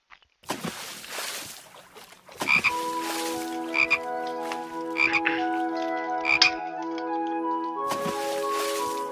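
Cartoon frog croaks from a Starfall.com web game, several bright tonal croaks in a row over sustained game music, loud and close with no talking.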